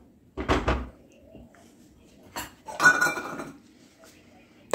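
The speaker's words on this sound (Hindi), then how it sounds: "तो हम इसको ढक देंगे।" A metal lid covers a cooking pan of kaju paneer gravy for a short simmer, giving two brief clattering clanks about two seconds apart, close and moderately loud over a quiet kitchen background.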